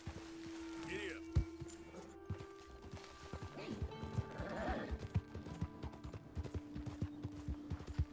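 Horse in Red Dead Redemption neighing near the start, then hooves clip-clopping in a quickening rhythm as it breaks into a gallop, with a voice speaking briefly.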